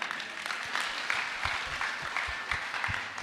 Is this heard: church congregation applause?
yes